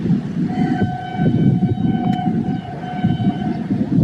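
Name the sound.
Mehran Express train arriving with locomotive whistle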